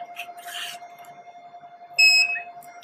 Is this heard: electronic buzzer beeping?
yes